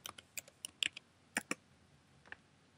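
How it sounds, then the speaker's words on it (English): A search keyword typed on a computer keyboard, a dozen or so light, sparse keystrokes in irregular bursts, close and quiet against a faint room background. "by typing in a keyword in this field here in the corner"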